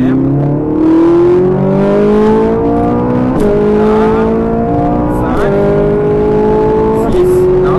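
Ferrari 458 accelerating on a race track, loud interior engine note climbing in pitch through repeated upshifts, each gear rising then dropping, with a voice talking over it.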